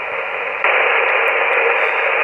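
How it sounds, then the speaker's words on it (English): Steady hiss from an Icom 718 radio receiver fills the clip, jumping noticeably louder about half a second in as the preamp switches on and staying at that raised level to the end. "If I switch the preamp in, you should hear the noise level here go up."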